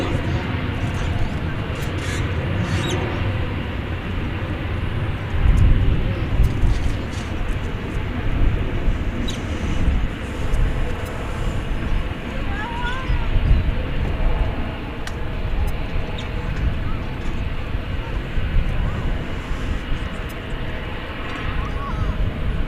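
Korean Air heavy airliner on its takeoff roll from runway 18 left at Dallas Fort Worth airport, a loud sustained jet engine roar with rumbling, alongside voices.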